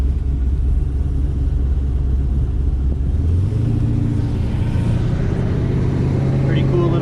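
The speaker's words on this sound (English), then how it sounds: "it makes all the right noises at the stop lights when you're sitting here. It rumbles and shakes the car" Low, steady idle rumble from a 620 hp LSX 454 V8 in a Trans Am Firebird with a 4L80e transmission, sitting at a stop light; the loping engine note deepens partway through while a voice talks over it.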